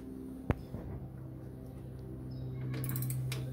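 Mechanical work on the chain of a Razor MX650 electric scooter, one sharp metallic click at the start followed by a steady low whir and faint ratcheting, close up, with no talking.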